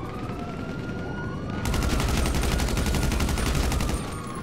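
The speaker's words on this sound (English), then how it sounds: "They're getting shot at by like a sniper or something" Gunshots in GTA V, with a rapid burst of automatic fire starting partway through and lasting a few seconds, loud and close over a siren-like background tone.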